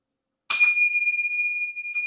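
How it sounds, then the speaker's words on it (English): Small bells are rung to open a children's yoga class: one bright, clear strike after a moment of silence, leaving a long shimmering ring that slowly fades with a faint second tap near the end. "And Avery will ring our bells to begin class."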